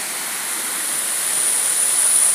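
Waterfall at Colden Clough near Hebden Bridge, a steady broadband rush of falling water heard close by, growing slightly louder over a couple of seconds with no voices.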